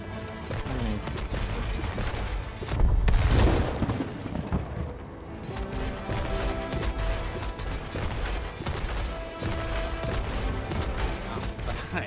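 A loud, booming bomb explosion in the video game It Takes Two bursts out over a dense, clattering wash of game sounds and music, followed by continued rumbling and mechanical noise.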